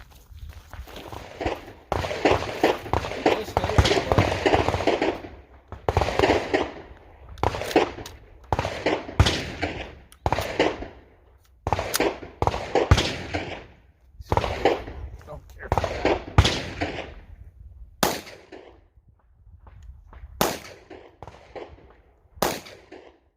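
A gun being test-fired after a slow cycle and a near failure to feed, with a series of loud, sharp reports at irregular intervals, some close together and others spaced apart, and a few brief voice fragments between shots.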